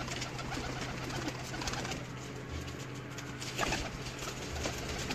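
Pigeons coo softly in a loft among a keeper's large-sized pigeons, with low murmuring calls and light rustling against a steady background hum and no speech.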